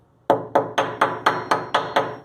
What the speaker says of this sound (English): I'll continue to hit it. I've also tried using a hammer a little bit